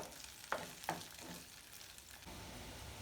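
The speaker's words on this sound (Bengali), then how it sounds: "পেঁয়াজগুলো ভেজে নেব 2 মিনিটের মতো।" Onions frying in a pan for a Thai soup give a quiet, steady sizzle, with two short scraping stirs near the start and another at the end.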